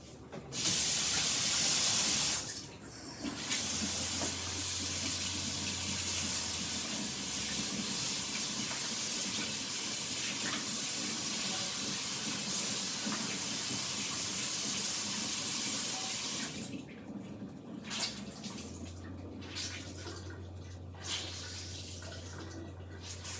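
Water runs from a tap to soak a rag for washing, a steady hissing spray that lasts most of the time, close and moderately loud, with a brief louder gush at the start and quieter handling sounds near the end.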